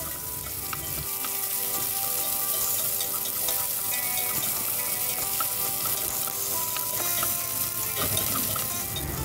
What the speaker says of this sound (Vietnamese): Sả thì mình cắt khúc mình cũng cho vào mình xào luôn.